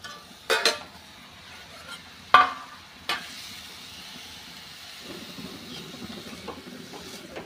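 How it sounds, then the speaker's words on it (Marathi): Dill greens with moong dal being stir-fried in a pan, with a few sharp utensil scrapes and clinks early on, then a soft, steady frying sizzle continuing alone. "आता आपण परतून घेऊया।"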